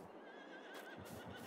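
A horse whinnies in the farm game Farming Simulator 22, a faint, drawn-out neigh over a steady wash of outdoor ambience with soft hoof clops.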